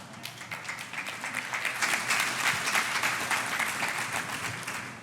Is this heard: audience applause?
yes